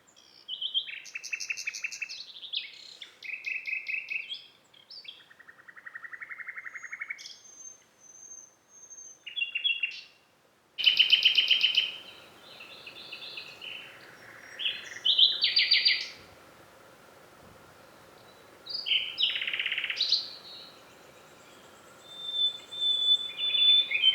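Two nightingales sing rich, varied phrases of whistles, trills and chirps, trading loud bursts nearby against a faint steady background hiss, in rural England.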